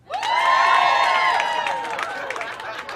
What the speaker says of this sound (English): now clap if you don't have kids